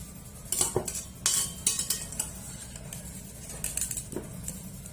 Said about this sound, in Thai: เราก็จะตักมาใส่ที่แป้งมันเนาะ